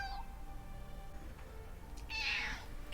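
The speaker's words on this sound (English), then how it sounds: "This is my cat Pippin." A house cat meows once, a short, fairly faint cry over quiet room background, with soft rustling before it.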